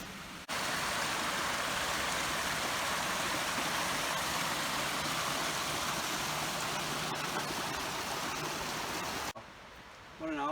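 A creek flows beside a forest trail near Big Meadows in Shenandoah National Park, a steady, full rushing wash of water lasting about nine seconds before cutting off abruptly near the end.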